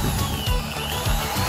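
A 650-watt electric power drill running continuously, a loud steady motor whine with faint rhythmic pulsing, close up and without speech.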